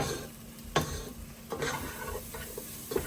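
Spices cooking in a pan for a Guinness chilli, stirred with a spoon. Soft sizzling runs underneath a few distinct scraping and tapping strokes against the pan, quiet and close.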